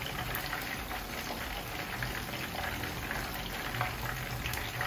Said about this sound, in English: you see the way it's frying on its own like this